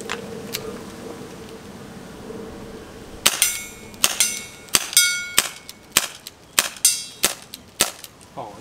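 An airsoft Desert Eagle CO2 gas blowback pistol running low on gas fires about ten sharp shots in an uneven sequence after a few quiet seconds of background noise. The cracks are close and loud, and no one speaks.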